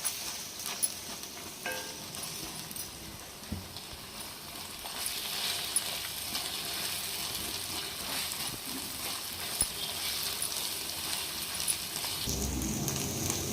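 Ginger garlic paste sizzles and fries in a pan, a steady, dense hiss of bubbling oil that carries on throughout with occasional faint stirring scrapes.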